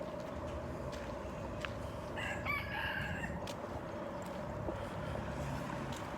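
Roosters crow at a distance in a wooded city forest, one drawn-out call standing out faintly over a steady low rumble of background noise, with no talking.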